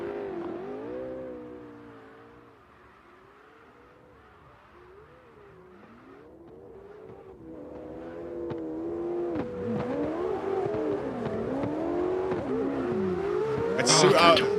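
A Dodge Viper drift car revs and slides in a practice run, the engine rising from a distant drone to loud, wavering revs with tire squeal, while people talk over it.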